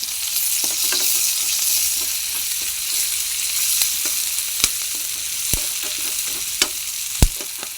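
Ginger, garlic and green chilli frying in a pan for an Assamese fish curry, a bright steady sizzle with light stirring and a few sharp clinks of the spatula, close and without speech.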